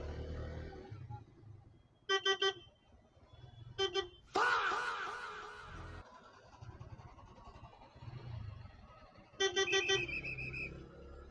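Vehicle horns honking in road traffic on a ride from Kolkata, several short bursts of repeated beeping plus one longer blast, over a low traffic rumble and wind.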